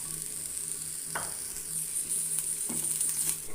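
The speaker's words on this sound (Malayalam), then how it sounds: "ആവശ്യത്തിന് വെളിച്ചെണ്ണ ഒഴിച്ച് നല്ല ഒന്ന് മൂപ്പിച്ച് വറുത്തെടുക്കാം" A spice mix frying in coconut oil for a Kerala-style varutharacha chicken curry gives a soft, steady sizzle with a couple of faint stirring clicks.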